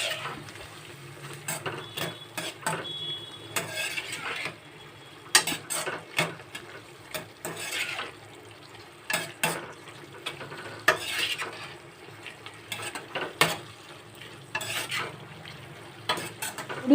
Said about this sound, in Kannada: ಇದಕ್ಕೆ ನೋಡಿ, ಪಾಸ್ತಾವನ್ನು ಹಾಕ್ಬಿಟ್ಟು ನೀವು ಈ ಥರ ಮಿಕ್ಸ್ ಮಾಡ್ಕೋಬೇಕು.